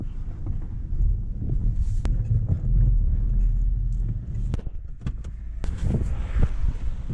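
A Fiat Linea car drives through snow on an icy road, its low engine rumble steady and close with wind buffeting the microphone, a few sharp knocks cutting through as the tires slip.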